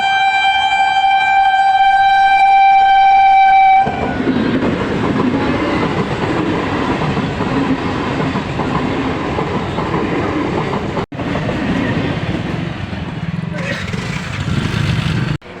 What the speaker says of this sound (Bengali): আর একটা ট্রেন আবার এক্ষুনি চলে আসবে